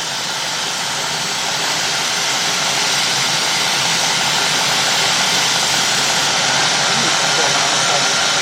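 A 2003 Cadillac DeVille 4.6 engine idling rough, a loud, steady roar with a hissing, rushing sound of air sucking in running continuously throughout, with no breaks.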